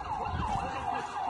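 Ambulance siren in Hatay during a rescue, loud and near: a continuous rising and falling wail over low background rumble.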